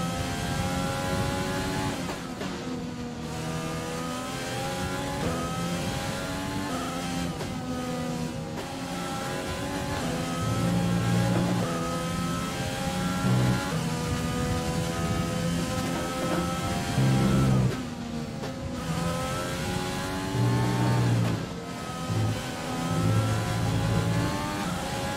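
F1 race car engines in the F1 2020 video game wail continuously at high revs, with harmonic pitches rising and falling through gear shifts and several cars close together, staying loud and steady throughout with no talking.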